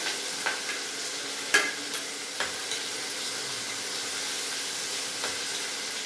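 Chopped onion frying in hot oil for an eggplant curry: a steady loud sizzle with a few sharp spatters and stirring clicks, no talk.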